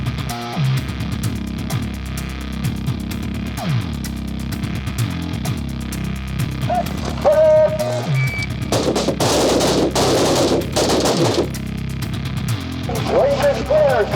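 Gunfire on a shooting range rings out in repeated sharp shots and short bursts, fairly close and loud, mixed with engine noise and range commands spoken over the action.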